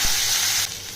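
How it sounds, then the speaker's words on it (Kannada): Mustard seeds and garlic hit hot oil for a North Karnataka style avarekalu sambar, giving a loud, close, bright sizzle that drops a little partway through the brief burst, with no talking. "ಸ್ವಲ್ಪ ಸಾಸಿವೆ, ಬೆಳ್ಳುಳ್ಳಿ ಆ್ಯಡ್ ಮಾಡೋಣ."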